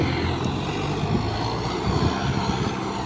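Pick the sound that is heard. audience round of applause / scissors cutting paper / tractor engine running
tractor engine running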